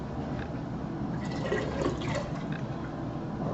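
Homebrewed beer from a Mr. Beer kit pours steadily into a bottle, producing a continuous close liquid fill with faint gurgling and bubbling throughout and no speech.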